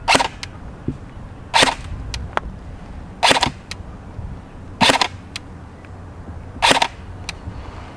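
G&P M4 CQB-R full metal airsoft electric rifle firing single shots through a chronograph: five sharp snapping cracks spaced about 1.6 seconds apart, each with a brief mechanical clack, with quiet room noise between.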